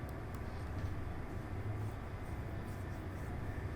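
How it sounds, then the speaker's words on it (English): A computer-controlled train rumbling past in the Train Life railway simulator, a steady low rolling drone with rail clatter that holds at an even level throughout. "Okay, so we had our first AI train encounter."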